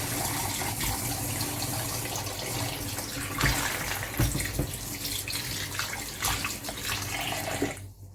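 Cold water runs steadily from a kitchen tap as chicken thighs and legs are washed in the sink, a continuous close splashing hiss with small shifts as the meat is handled, stopping abruptly at the end.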